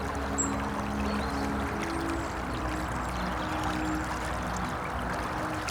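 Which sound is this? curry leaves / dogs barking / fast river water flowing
fast river water flowing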